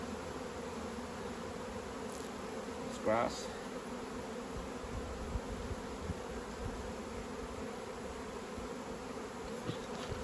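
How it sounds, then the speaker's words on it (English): Honey bees buzz steadily around an opened beehive during autumn hive work, a dense continuous drone with a brief close voice and handling knock partway through. "Push those bees down so I don't kill too many"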